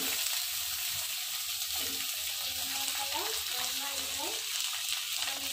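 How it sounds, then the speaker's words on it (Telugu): Chopped vegetables, including small eggplant pieces, fry in hot oil for vegetable fried rice. A continuous close sizzle runs throughout, with light stirring scrapes layered on top. "ఇది కొంచెం మగ్గాలన్నమాట, లైట్గా ఫ్రై అయ్యి మగ్గినట్టు అయితే సరిపోతుంది"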